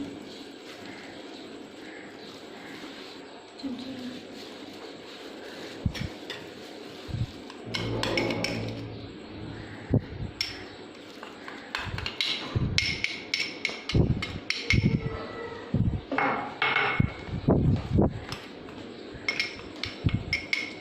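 Spices are mixed into 1.5 cups of all-purpose flour in a bowl to make a spicy coating for KFC-style fried chicken. A low background hum runs under irregular knocks and clinks of a utensil against the bowl, which grow busier in the second half.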